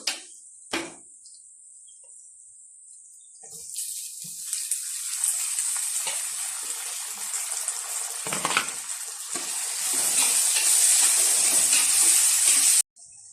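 Tomatoes dropped into a hot pan of ginger and garlic for a pepper chicken masala, with a steady loud sizzle that starts after a few quiet seconds with faint knocks, swells, and runs to the end with no talking.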